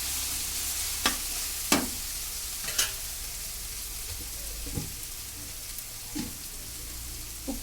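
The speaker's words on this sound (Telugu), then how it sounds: "తర్వాత ఉల్లిపాయ ముక్కలు ఇలాగా వేపేసుకుని బ్రౌన్ రంగు వచ్చేదాకా" Chopped onions frying in hot oil for an egg curry, a steady low sizzle throughout with a few sharp scrapes and clacks of a spatula stirring the pan at irregular intervals.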